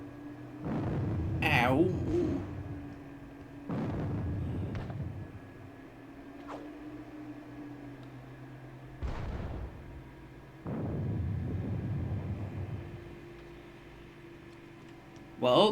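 Booming artillery barrage in a Napoleonic-era war game of the Battle of Friedland, several heavy blasts rolling out at intervals over a low steady hum, with a brief voice in between.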